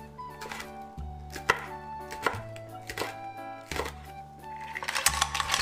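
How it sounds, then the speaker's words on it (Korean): A kitchen knife chops chives into 4 cm lengths and finely slices green chili peppers on a cutting board, giving close, crisp, irregular thuds and taps in quick bursts with no talking. "향긋한 향이 좋은 부추는 4cm 길이로 썰어주고 칼칼한 청원고추는 쫑쫑 썰어줍니다."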